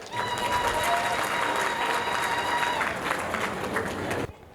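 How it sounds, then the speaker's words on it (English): Audience at a community celebration of achievements applauding loudly and continuously, a dense wash of many hands with faint cheering and a sustained tone beneath, stopping abruptly at the end. "Let's give him one big round of applause again, please."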